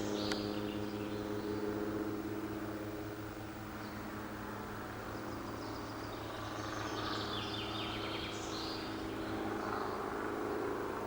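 Helicopters flying over a memorial park cemetery on a ridge, a continuous distant rotor drone with faint birdsong in the background and no speech.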